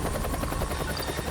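A helicopter's rotor in the animated series Huntik thumps in a steady, loud chop with a constant engine whine, close by and continuous.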